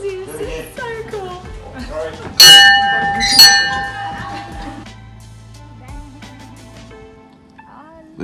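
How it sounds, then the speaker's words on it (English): An old school bell, rung by hand, gives two bright clangs partway through, framed by ongoing conversation before and after the ringing. "I'm so privileged I've been allowed to ring the bell."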